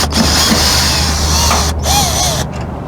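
Mechanical whirring and ratcheting from a screw being backed out of an Ariston (Splendide) dryer being worked on, loud and steady, continuous, with brief pauses near the end.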